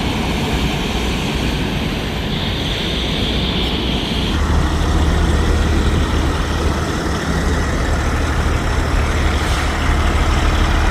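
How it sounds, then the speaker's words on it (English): A truck rumbles nearby with a steady low engine drone that swells and deepens midway as it passes, loud and continuous with no talk. "Look at that truck right there."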